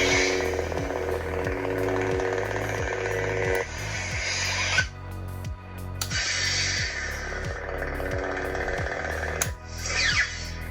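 Darth Maul Shadow Collective lightsaber from Galaxy's Edge igniting, a loud buzzing hum that cuts out and restarts, with an electric crackle near the end.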